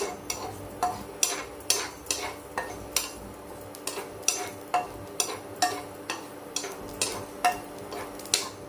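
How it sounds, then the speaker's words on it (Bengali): Whole spices for mango pickle dry-roasting in a hot pan with no oil, stirred steadily so they rattle and scrape against the metal in a regular scratching rhythm, close and moderately loud with no talking. "এটা শুকনো খোলায় ভেজে নেব।"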